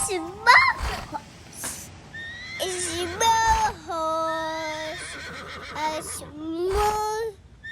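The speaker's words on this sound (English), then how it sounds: "Horse." A horse neighs and whinnies repeatedly in a children's farm-animal song, with long, quavering high calls and several shorter bursts, close and clear, while people talk and sing between the calls.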